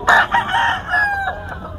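Several chickens cluck and a rooster crows, overlapping calls from a lively flock of gamecocks close by at a busy poultry market, with no talking.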